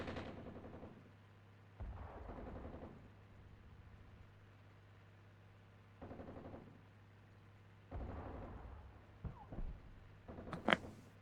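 Artillery high-explosive shells land in the Armored Brigade II war game, Scandinavia setting: several separate booming impacts spaced a few seconds apart over a low steady drone, with a sharper, louder burst of crackling blasts near the end.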